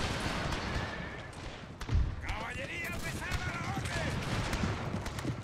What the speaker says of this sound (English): Oh, and the Irish firing now.